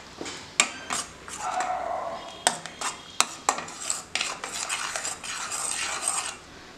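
Spoon clinks and scrapes against a pan as tomato puree is stirred into aloo matar kurma, a series of sharp metallic taps and scrapes, close and moderately loud, with no talking.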